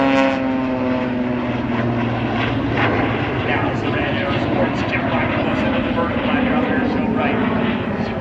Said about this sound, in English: Even that airplane coming right back and around out here off of airshow center.